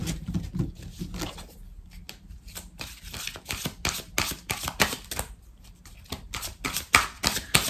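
Oracle cards are shuffled by hand for a sentimental reading, giving a steady run of soft papery riffles and slaps close to the listener, with brief pauses between bursts and no talk.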